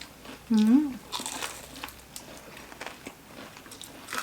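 Someone bites into and chews thin, crispy batter-fried shrimp up close, a sharp crunch followed by softer crackling chews, with a brief vocal sound at the start and quiet room noise.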